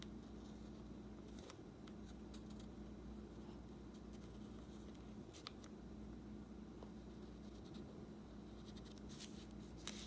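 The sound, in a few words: drawing eyes with a pen on an origami paper crab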